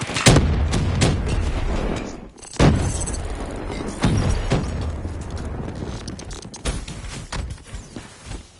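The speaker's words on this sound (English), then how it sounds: "Thermite grenade." Game explosions and bursts of combat noise from a Call of Duty Zombies match, with a thermite grenade going off: several loud, sharp booms spaced a second or two apart over a continuous roar of gunfire and clanking mechanisms.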